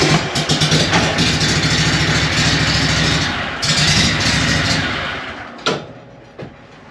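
A brand new Skag Windstorm mower's engine runs as it is backed up, a steady mid-pitched chugging idle that fades and cuts off near the end with a few clunks.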